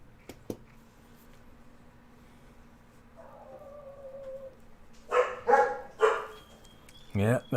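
A small yappy dog barks in a handful of sharp bursts in the second half, loud and fairly close, after a quieter stretch with low background tones.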